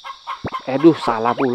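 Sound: chicken clucking in video game Harvest Moon Back To Nature

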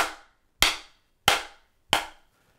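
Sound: rim shots on an RCP Drum Company active snare pad

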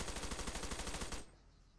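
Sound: gunshots in a video game

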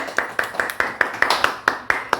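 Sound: people clapping hands in celebration

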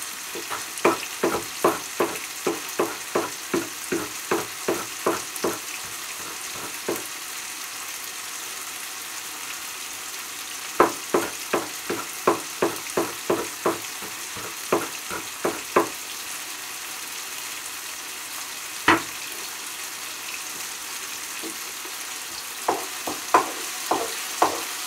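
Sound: vegetables stir-frying in a pan

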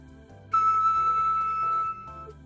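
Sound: flute headjoint played at a higher pitch

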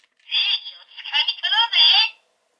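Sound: toy transformer selection sound

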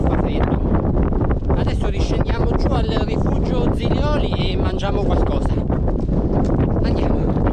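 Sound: wind on a mountain summit

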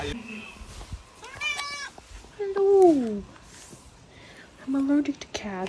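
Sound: cat meowing

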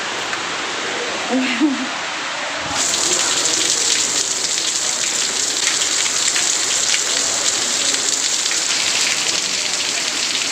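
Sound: heavy rain

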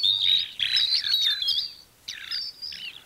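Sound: bird sound played from phone music app

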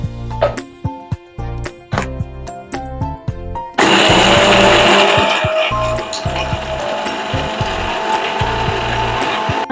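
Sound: mixer grinder grinding spice mixture for mutton fry

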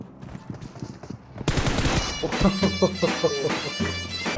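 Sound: pump shotgun fire, PUBG Mobile video game

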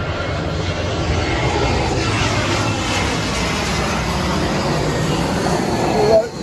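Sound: airplane passing overhead

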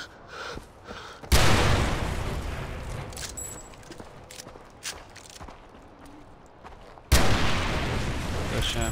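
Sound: explosions in the video game Far Cry

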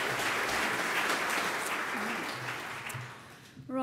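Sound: audience applause for presenters

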